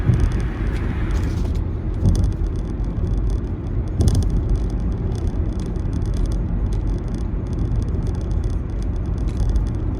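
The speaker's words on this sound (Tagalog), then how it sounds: "Marami ngayon ang sasakyan." Road traffic on a busy Osaka route near Umeda carries a steady rumble and whir of cars passing close by. It holds a continuous loud wash with a few brief rattles and no voices.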